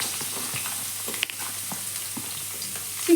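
Thinly sliced onions, two small ones, frying in a pan for a chicken dry dish: an even, continuous sizzle with faint occasional stirring taps, close and steady, no voices.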